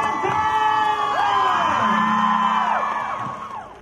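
A large crowd at a women's charity run in Guwahati, India cheers loudly, with whoops and high shouts rising and falling over a few seconds before the sound fades slightly at the end.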